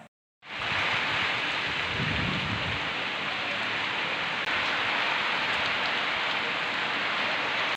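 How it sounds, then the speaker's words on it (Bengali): Heavy rain pours steadily on a surface with strong wind gusting through it and a low rumble of thunder early on, loud and continuous with no talking. "জোরে হাওয়া দিচ্ছে আর সাথে করে ঝমঝমে বৃষ্টিও নেমে গেছে আর প্রচণ্ড জোরেই বৃষ্টিটা হচ্ছে"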